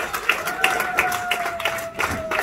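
Audience applause for Sister Priscilla at an anniversary gathering in London: scattered clapping with a few sharper claps, moderately close, over a faint steady tone and light room noise.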